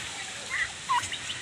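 Turkeys sunning outdoors let out two brief, high warbling gobbles close by over a steady background hiss.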